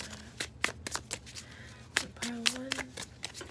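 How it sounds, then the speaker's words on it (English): A deck of tarot cards is shuffled up close in quick bursts of riffling and sliding card sounds, while someone talks softly between them. "And then the rest, just shuffle."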